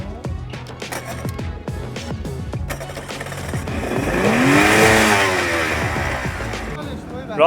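A motorboat engine sets off on the Strait of Hormuz, its tone climbing and swelling louder midway as the boat gets under way, then settling, with voices talking over it.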